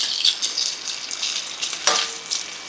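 Shrimp fry in a hot pan with a steady, close bright sizzle, with occasional stirring scrapes and small pops and no talk.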